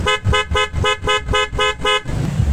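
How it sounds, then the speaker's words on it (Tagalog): A loud Honda ADV150 scooter stock horn honks in a quick series of about eight short, evenly spaced beeps, then stops, leaving a low rumble. "Stock horn."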